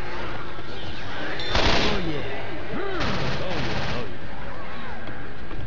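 Left 4 Dead 2 gunfire crackles in rapid automatic bursts amid game chaos, with loud dense volleys around the middle, while voices talk over the action.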